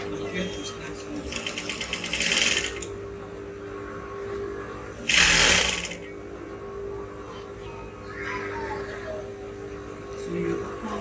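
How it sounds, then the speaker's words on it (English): A sewing machine stitches a godet blouse in two short bursts of quick, rattling running, each a second or two long. Low background hum and faint handling noise fill the gaps between the bursts. "take it to the sewing machine, and then I'm going to start sewing"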